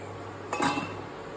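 A metal lid is set onto a pot of simmering Bhutanese fresh fish soup, making one brief, close clink against a quiet, steady background.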